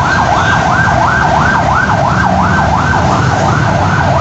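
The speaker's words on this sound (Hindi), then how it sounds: "पीछे से एम्बुलेंस गुजर रही थी" An ambulance siren wails loudly nearby, a fast repeating up-and-down sweep cycling evenly for several seconds, over a steady rumble of traffic on a street heading toward a market.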